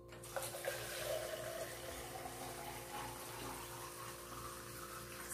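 Tap water running steadily into a container for homemade baking soda soap, a continuous near splashing flow with no talk.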